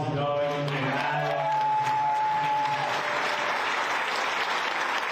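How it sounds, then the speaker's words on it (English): An audience at a golf championship pairings party gives a round of applause for two honorees, dense steady clapping that stays loud and even throughout, with a brief voice at the start. "Can we give a big round of applause to Doug and Adam?"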